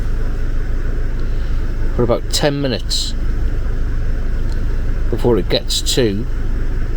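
A stationary vehicle's engine, checked during a diesel particulate filter job, idles with a steady low rumble at close range, while someone talks over it in short phrases.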